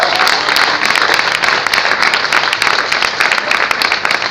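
A church congregation claps loudly and fast, many hands close together in a dense, lively burst that carries on throughout.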